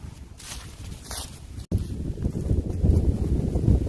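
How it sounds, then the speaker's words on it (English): Gusty wind buffets the microphone outdoors throughout, a rough low rumble that drops out for an instant and then returns stronger and steadier. "I do apologize for the wind."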